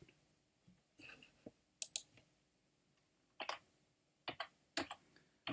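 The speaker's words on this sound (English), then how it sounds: "So I'm gonna type my equation here" An equation being typed on a computer keyboard: sparse, quiet clusters of key clicks with irregular pauses between them, close by and alone in an otherwise silent room.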